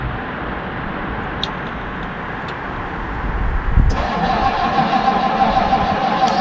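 An old project car's engine, with the choke pulled, cranks and then catches into a steady, loud running rumble partway through.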